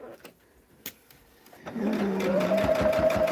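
A sewing machine stitches a Hunter Star quilt, starting with a few soft clicks and handling taps, then whirring into a steady, close, continuous hum of stitching that runs to the end.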